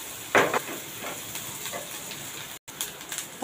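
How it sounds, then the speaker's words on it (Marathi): Sliced capsicum dropped into a pan of softening, sautéing onions, giving a brief burst of sizzle and stirring that then settles into a steady low frying hiss. "थोडा मऊसर झाला कांदा की मग यामध्ये शिमला मिरची घालूया."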